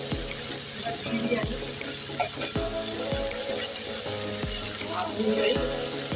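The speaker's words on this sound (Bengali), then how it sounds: "আমি এর মধ্যে কেটে রাখা একটা টমেটো বড় সাইজে দিয়ে দিলাম আমি এটাকে মিক্স করে দেবো" Chopped tomato stirred into potatoes, eggplant and beans frying with spices in a pan: a steady close sizzle with repeated scraping stirs and clinks of the spoon against the pan.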